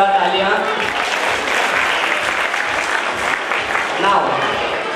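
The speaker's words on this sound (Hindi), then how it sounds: "एक बार जोरदार तालियां।" Applause rings out from an audience at a school award ceremony, a steady, moderately loud patter of many hands while a voice speaks over it on a microphone.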